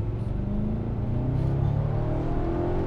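An Audi RS5 V8 in RS mode accelerates steadily, its engine note droning and climbing in pitch over a few seconds, heard from inside the cabin at moderate volume with no one talking.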